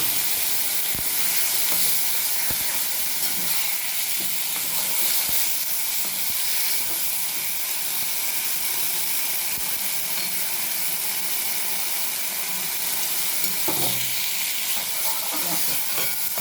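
Pointed gourd (potol) fries in a pan with a loud, continuous sizzle and hiss, broken by occasional soft knocks and scrapes as the pieces are stirred.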